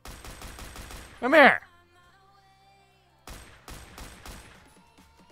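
Sharp rifle shots tap-fired in short bursts in the video game Phantom Forces, a quick run of cracks at the start and another cluster later, around a loud shouted voice.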